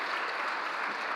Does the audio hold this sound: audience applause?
yes